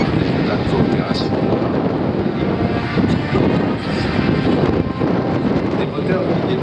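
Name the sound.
Airbus A400M turboprop aircraft engines, TP400 turboprops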